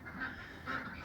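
Ducks quack inside a backyard bird house in two brief bursts, fairly near and moderately loud, with no voices over them.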